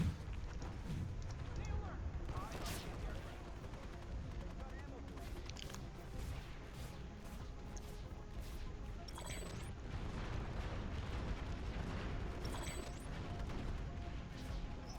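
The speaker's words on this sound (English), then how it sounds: "A lot of snipers shooting into this valley." Planetside 2 gameplay audio of snipers firing into a valley: scattered faint gunshots and distant battle noise under continuous low ambience, with some voice chatter.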